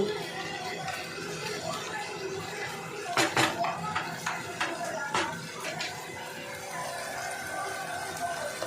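Food is mixed in a pan and then covered with a lid, heard as a few close metallic clinks and scrapes over a steady kitchen background with faint voices farther off.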